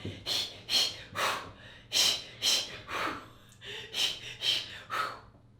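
A woman practicing labor breathing, a series of about ten sharp, rhythmic breaths, quick audible inhales and exhales spaced roughly half a second apart, close and fairly loud, with no speech.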